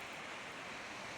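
Waterfalls in a hilly area with a tram line nearby, giving a steady, even broadband rush of falling water that continues without a break at moderate loudness.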